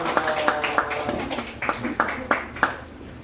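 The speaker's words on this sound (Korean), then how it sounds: "다시 한번 박수해 주시고 들어가도록 하겠습니다." Scattered claps from a church congregation at a Sunday service appointing new officers, sounding as a series of separate, fairly evenly spaced hand strikes while a voice talks over them.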